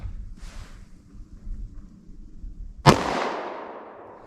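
A single sharp 9mm shot of a 90 grain Extreme Defender round fired outdoors during an ammunition test, preceded by low background rumble and followed by a long decaying echo.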